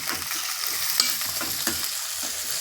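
Chopped onion sautéing in a pan for a Marathi potato rassa curry, with steady frying hiss and a few soft stirring scrapes close by, no talking.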